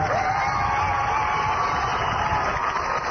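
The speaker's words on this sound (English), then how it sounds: "he was greeted by loud applause and an equally loud chorus of boos" A large graduation crowd roars at Governor Arnold Schwarzenegger, a loud continuous wash of mixed cheering, applause and booing with no single voice standing out.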